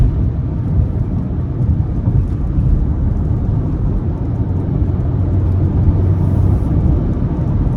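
A 2023 Land Rover Discovery Sport SE with a 9-speed automatic and all-wheel drive cruising in fourth gear, its interior filled with a steady low engine and road rumble and no voices.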